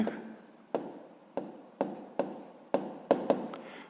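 Pen strokes writing numbers by hand on paper, a series of about eight short, sharp taps and scratches spaced irregularly, close and quiet with no talking.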